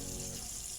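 Tap water runs into a fish pond, a steady faint hiss and gush with no talk.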